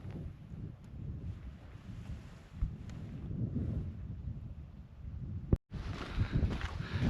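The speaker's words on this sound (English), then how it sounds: "it's super windy up here" Strong wind gusts buffet the microphone on an exposed Swedish mountain during a long-distance hike, a loud continuous rumble that rises and falls, with a brief dropout near the end before the roar returns.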